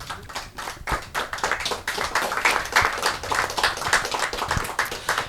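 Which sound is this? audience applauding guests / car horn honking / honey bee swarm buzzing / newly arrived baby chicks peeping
audience applauding guests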